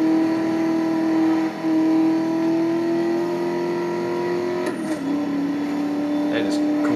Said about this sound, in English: No, it's turbo noise.